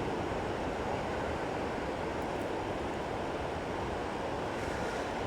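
Continuous rushing surf and wind noise on a breezy beach at Long Beach, Washington, a steady broad roar of ocean waves with breezy buffeting on the microphone, no speech.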